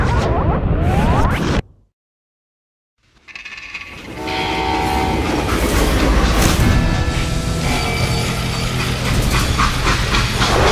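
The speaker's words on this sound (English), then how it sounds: "How'd they stop this train in the first place?" Train in the Western video game Call of Juarez: Gunslinger: a loud blast, a brief dead silence, then a rumbling steam locomotive with hissing steam and rattling wagons building up and running continuously.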